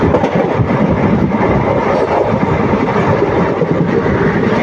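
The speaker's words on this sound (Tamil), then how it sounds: "ட்ரெயின் காட்டு வேகங்க சரியான ஸ்பீடு வண்டி" A passenger train runs fast on the Palani to Pollachi line, producing a continuous loud rumble and rattle of wheels on rails heard from inside the carriage, with no pauses.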